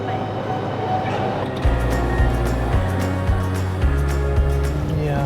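A six-coach London passenger train runs toward St Pancras International, its steady low rumble and hum carrying a rising electric whine, with rhythmic clunks over the rail joints.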